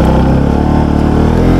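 A motorcycle engine labours on a dusty off-road climb near Rainaskot, Lamjung, with a loud, close, droning growl that holds steady with slight rises in pitch.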